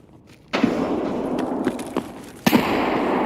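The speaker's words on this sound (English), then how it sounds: "I got a giant, big ass grenade I just threw over." A large grenade goes off in a video game as two sudden booming blasts about two seconds apart, each followed by a sustained loud rumbling roar with a few smaller thuds between them.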